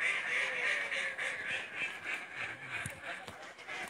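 Ducks quack repeatedly at a lake, a steady rhythm of nasal calls at moderate distance over outdoor ambience, with faint low human sounds in the background.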